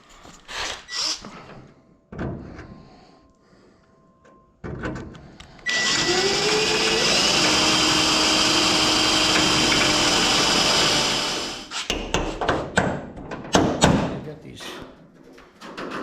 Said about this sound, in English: let's just get grinding and drilling some more on these